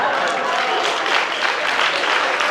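A stand-up comedy audience claps steadily, a dense, even wash of applause from a close crowd that holds at full strength.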